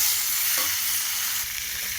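Spice paste and sliced tomatoes being stir-fried in a pan give off a steady, close sizzle, with a few soft scrapes and stirring knocks from the spoon and no voices.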